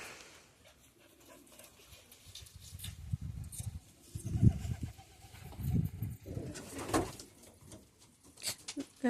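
Racing pigeons coo softly and intermittently in low, throaty bursts inside a loft, with occasional rustling and faint chirps nearby.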